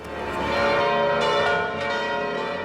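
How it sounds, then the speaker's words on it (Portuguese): Church bells of the Church of the Annunciation in Nazareth ring out together in overlapping, sustained peals, resonant and fairly loud. "Os sinos dobram"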